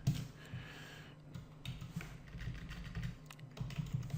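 Quiet clicking on a computer keyboard, with irregular runs of keystrokes and short pauses, faint and close, with no voices.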